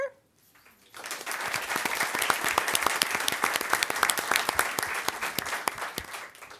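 After a moment of quiet, a crowd at a school board meeting breaks into steady applause that continues without pause, moderately loud and sustained.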